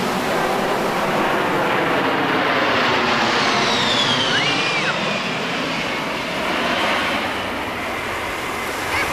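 An A-10 Thunderbolt jet flies past at an air show at Pensacola Beach, a loud steady roar filling the whole span with a faint whining tone rising and falling midway.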